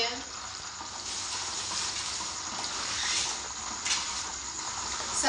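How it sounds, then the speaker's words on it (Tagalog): Food frying in a pan gives a continuous crackling sizzle, close and steady, with faint stirring noises throughout. "Itutuloy pa ba natin ang pagprito?"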